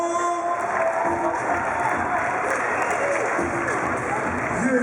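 A crowd at a hip-hop dance battle final in Switzerland applauds continuously, a dense wash of clapping and murmuring voices that holds steady throughout.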